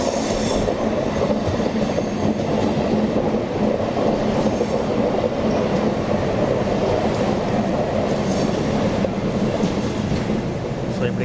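Tirupati–Shirdi weekly express running through a curve, a dense continuous roar of wheels and carriages with faint squeal and clatter, steady and loud from on board throughout.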